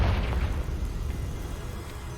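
A dense, rumbling blast from the Confringo explosion spell in the Hogwarts Legacy video game booms loud and low, then rolls on as a sustained crackling roar through the whole stretch.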